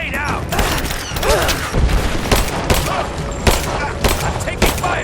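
Gunfire and explosions in the Rise of the Tomb Raider video game: dense, loud bursts of automatic weapon fire and heavy booms fill the scene without pause, with shouted voices mixed in.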